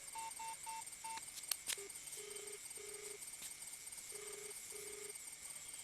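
A phone call is placed: four quick, short dialing beeps, a couple of clicks, then faint, evenly spaced ringback tones repeating over a quiet line.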